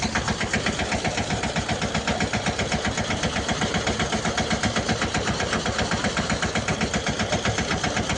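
A small tractor engine runs close and loud during castor harvesting with a thresher, a steady, rapid chugging throb that holds unbroken with no voices.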